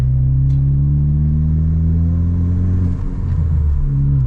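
A Ford Focus ST with a 2-liter turbo engine, fully bolted-on, pulls in third gear with a steady, loud low engine drone and deep rumble, heard from inside the car without talk.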